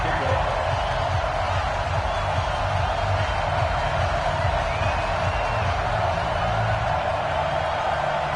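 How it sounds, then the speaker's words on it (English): Stadium crowd noise in an American football video game, Buccaneers versus Panthers, a dense, steady roar of cheering that runs unbroken and loud throughout. "This crowd is ready as their guys get set to match up"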